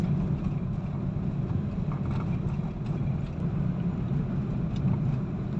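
A Hyundai Accent with a 1.3 engine climbs a hill toward Tagaytay, giving a steady low engine drone with a faint rumble underneath that stays constant throughout.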